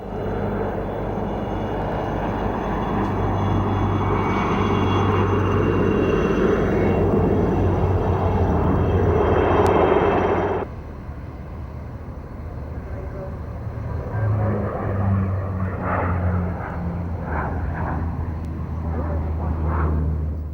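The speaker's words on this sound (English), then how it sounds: "Air Force also fly the highly successful French-built Alouette 3, and their Grasshoppers team give an impressive demonstration" A French-built Alouette 3 helicopter flown by the Grasshoppers display team at the 1994 Mildenhall Air Fete gives a loud broadband engine and rotor roar that cuts sharply quieter partway through, while a narrator talks over it.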